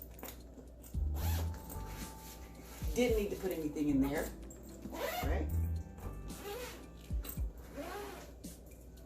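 A zipper on a pocket of an underseat travel bag is pulled open in short scratchy runs, close and fairly clear, with someone talking between the pulls.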